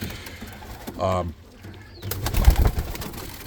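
Rakovnik roller pigeons in a kit loft give a brief, fairly close coo, followed by soft shuffling and rustling as the birds move about.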